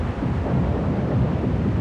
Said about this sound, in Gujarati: ભયાનક તોફાન આવ્યું, વીજળી ચમકી, વરસાદ પણ શરૂ થયો.